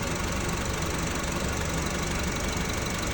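A car's air-conditioning compressor shudders with the engine running, a steady, dense engine rumble and vibration with a faint knocking quality, continuous and close, with no talk.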